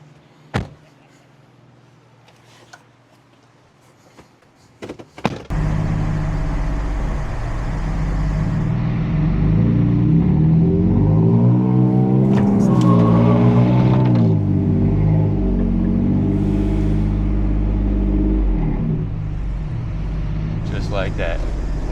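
A Jaguar car stuck in beach sand sits quiet at first with a few clicks and thumps, then its engine starts and runs steadily, revving up in a strained swell midway before easing back, with people talking nearby.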